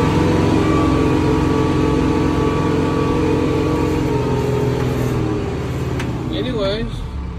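A Branson 5520c tractor engine runs steadily with a low, continuous drone throughout, close and loud, briefly shifting near the end.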